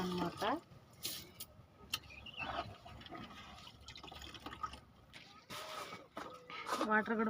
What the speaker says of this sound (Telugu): వాటర్ కూడా పోసేసాము